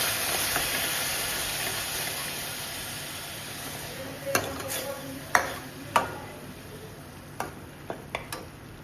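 Tomato paste goes into sizzling masala in a pan for a soya chunk curry, giving a steady hiss and sizzle with a few sharp clicks and taps of a spoon against the pan as it is stirred.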